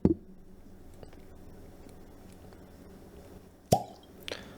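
A cork pops out of a Lusty Claw bourbon whiskey bottle with one sharp, hollow plop near the start and another close pop later, over a quiet room with no talk.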